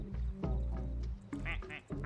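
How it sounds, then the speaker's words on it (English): A clicked duck in a video game quacks several times in quick succession, loud and near, each quack a short nasal burst. "I can keep clicking and I can make it quack."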